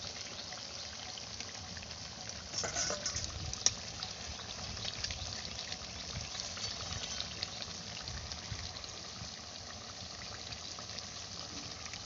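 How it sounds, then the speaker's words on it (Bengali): Water poured into a pot of cooking goat meat curry, a quiet steady trickle and bubbling splash running throughout, with a brief louder clatter near the start. "চলো জল ঢেলে দিয়ে একটু ঝোল করবো"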